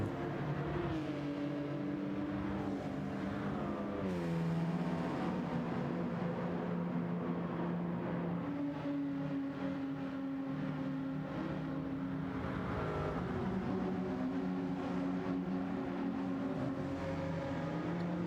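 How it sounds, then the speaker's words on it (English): A V8 car engine in Gran Turismo 7 hums steadily at a constant drone, its pitch rising and falling through gear changes and revs, with no talk over it. "Alright, let's have a listen to this V8 for a bit."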